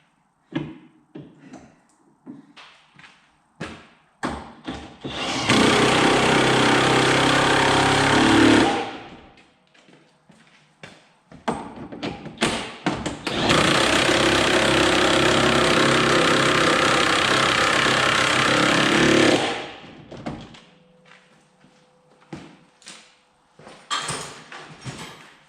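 A Ford Capri fitted with a 2.9 Cosworth twin-turbo engine runs in two loud, sustained bursts of a few seconds each, separated and framed by quieter intervals of scattered clicks and clanks from the workshop.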